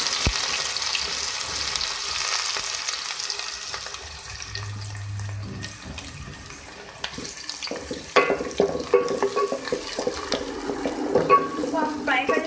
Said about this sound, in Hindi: अब मैं इसमें प्याज डाल रही हूँ।